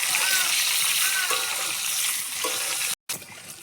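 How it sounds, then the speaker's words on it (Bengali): Eggs frying in oil with salt and turmeric over a wood-fired clay stove, with a loud continuous sizzling hiss that cuts out briefly near the end before resuming. "লবণ দিয়ে হলুদ দিয়ে আমি ডিমগুলোকে ভেজে নিচ্ছি"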